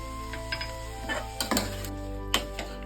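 Tomatoes being sautéed in a pan for mint chutney give a soft steady sizzle, with a spoon scraping and clinking against the metal in scattered bursts, close and alone.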